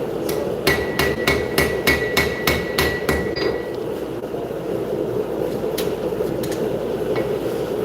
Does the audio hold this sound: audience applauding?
no